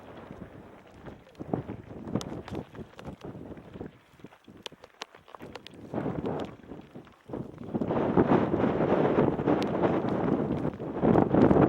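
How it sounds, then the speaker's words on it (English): Strong gusty wind buffets a microphone on an exposed mountain ridge trail in Alaska, with uneven rumbling bursts early on and then a steady, louder roar through the final seconds. "It's really windy on top here. It might be a little noisy."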